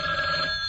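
A telephone bell rings in a Tooth Fairy audio drama, a short, loud, sustained electronic trill.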